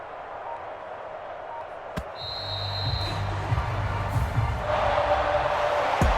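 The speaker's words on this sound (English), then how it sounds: "And the home crowd applauding." Home crowd noise from a Madden NFL 25 football stadium, a broad steady roar that swells slightly toward the end, with a brief sharp thud near the start and tonal accents over the din.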